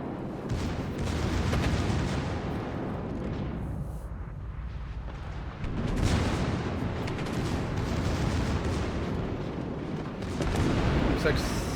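Naval guns firing in the World of Warships video game as a Leander cruiser shoots with its front guns, with dense booming salvos rumbling continuously and loudly, and a voice talking over parts of the barrage.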